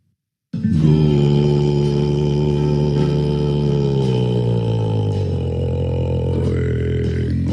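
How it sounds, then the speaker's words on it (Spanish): A deep, buzzy tone starts suddenly and drones for about seven seconds, rich in overtones, its pitch sinking slightly partway through. "El grave suena así."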